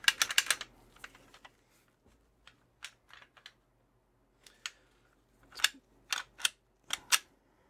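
An SVT40 rifle's bolt is worked back during cleaning, giving a close series of sharp metallic clicks and clacks in irregular bursts with quiet gaps between them.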